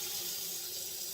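Tap water runs steadily into a roasting pan for a beef roast, a continuous bright hiss and splash, fairly quiet and close, with no talking.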